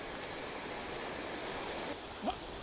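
A creek beside the Kentucky Falls trail in Oregon rushes steadily, a soft continuous wash of flowing water with a faint brief bird-like chirp near the end.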